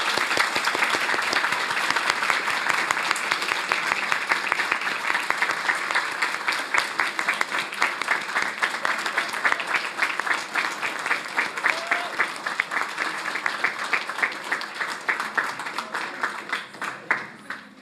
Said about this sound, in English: Please join me in applauding them for their achievements.